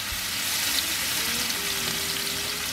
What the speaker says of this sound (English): Here we go with our steak into the pan.